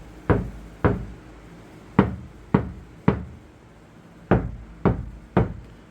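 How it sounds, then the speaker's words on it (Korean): Eight separate knocks on the bare steel rear door panel of a Kia Sportage NQ5 before sound deadening, irregularly spaced, each a sharp hollow tap with a short ringing decay, close by and otherwise quiet. "방진 작업을 하기 전에 빈 공간에 리어 도어의 철판, 떨림, 울림에 대한 소리를 한번 들어보겠습니다"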